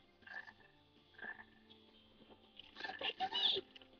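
Frog croaks in the Sonic Heroes video game, a few low bursts early on, then a denser, louder cluster near the end over a quiet game background.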